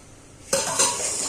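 Utensils being washed in a home kitchen where potatoes were just fried: after a quiet start, a sudden bright clatter of dishes and metal clinking rises, then a second clink follows and a busy rattle carries on.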